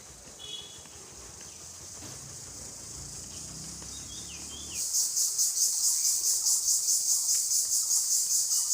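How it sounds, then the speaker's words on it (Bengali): Crickets chirp in a green Bangladeshi village in spring, first faint and distant, then a loud, continuous pulsing trill that swells in from about halfway and keeps going to the end, with no voices. "জি জি পোকা ডাকতেছে।"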